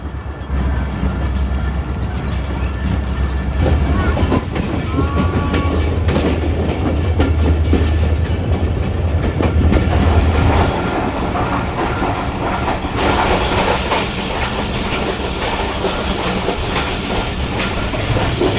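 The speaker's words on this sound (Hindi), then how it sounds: "तो 2:50 फाइनली ट्रेन निकल गई है जी पन्नौकिल कैंट रेलवे स्टेशन से" A Hazara Express passenger train rolls steadily along the tracks after leaving a cantonment railway station, wheels clattering in a continuous rhythm with occasional squeals and hiss, heard from close inside the moving carriage.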